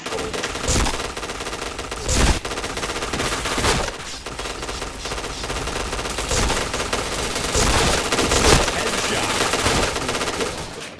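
Rapid video game gunfire fills the clip: bursts of automatic shots crackle loudly and almost continuously, with a few heavier individual bangs standing out.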